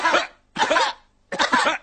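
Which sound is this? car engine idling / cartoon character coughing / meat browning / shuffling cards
cartoon character coughing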